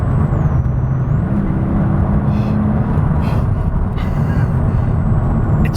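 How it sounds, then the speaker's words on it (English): Mercedes SL65 AMG Black Series V12 engine pulling hard under throttle, a steady loud low roar with wind and road noise filling the cabin throughout. "I'm gonna roll on the throttle again."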